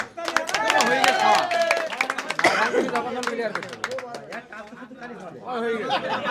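An audience claps at a contest to eat a 3 kg watermelon in two minutes. Scattered hand claps patter throughout, mixed with a loud announcer's voice and crowd chatter.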